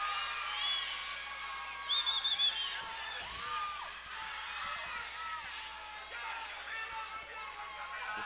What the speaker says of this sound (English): The crowd really into it here at the Cox Pavilion here in Las Vegas.